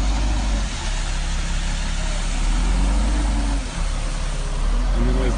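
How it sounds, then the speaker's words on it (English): A bulldozer's diesel engine drones steadily at close range, rumbling low and constant as it tows a concrete ditch form forward by cable amid outdoor construction noise. "to this bulldozer down there with that cable, and it's just pulling it forward."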